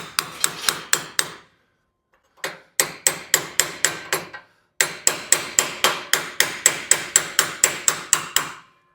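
Rapid, ringing hammer blows shaping a 1941 Mercury steel floor pan into a curve, in three bursts, each a fast steady series of sharp metallic strikes, close and loud.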